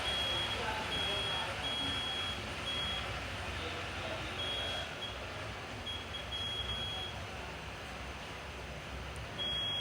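A multimeter's continuity beep sounds while probing an ASUS X415EA laptop motherboard for shorts in the 3.3 V section, a thin sustained tone cutting in and out over a constant hissy background.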